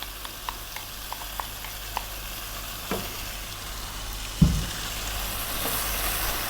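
Chicken curry with yogurt stirred in a frying pan on the stove: a steady low sizzle with soft periodic scrapes and taps of the spoon, one louder clunk near the end.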